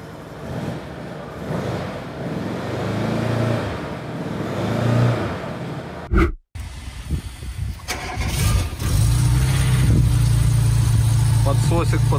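Engine of a BRP Can-Am Maverick Trail 800 side-by-side running just after starting on fuel of uncertain origin, a steady close idle rumble that drops out briefly midway then resumes loud and even, with people talking over it.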